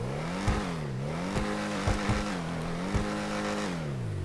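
Emperor Vectre car engine in GTA Online, a steady droning tone that rises and falls in pitch with repeated revving swells and brief sharp ticks, close and fairly loud with no talking.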